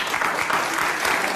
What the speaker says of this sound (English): People are clapping in Bill Maher's audience.